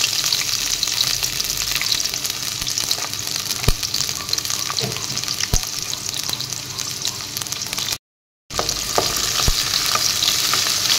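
Spice paste for chicken curry with pointed gourd sizzles and spatters steadily in a hot pan, with occasional scraping stirs and a brief dropout near the end.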